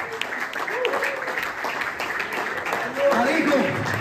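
A men's church retreat congregation applauds loudly, continuous clapping filling the room while a voice speaks over it and the noise swells toward the end.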